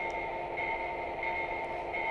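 A small bell dings in a steady repeating rhythm over a constant mechanical hum, close and fairly loud.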